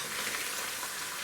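Spice powders, coriander, paprika, turmeric and Kashmiri red chili, fry in a pan for mushroom pilau, giving a brief, even hiss of sizzling close by.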